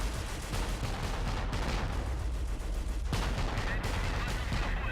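Gunfire from an ambush on a StuG assault gun in the strategy game Blitzkrieg, set in Afrika 1943: dense, continuous bursts of shots and booms crackle steadily throughout, with a sharp heavier report near the middle.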